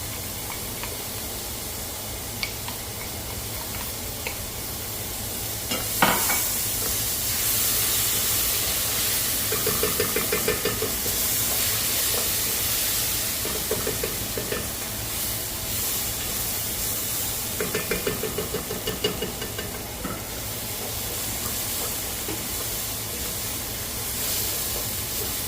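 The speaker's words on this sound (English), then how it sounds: "Steam as normal." Tomato sauce poured into a hot pan of browned carnitas, giving a steady loud steam hiss and sizzle that runs throughout, with brief clinks and stirring scrapes on top and no talk.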